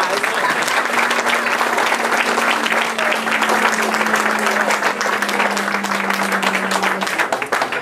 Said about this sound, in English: let's give them all a nice big round of applause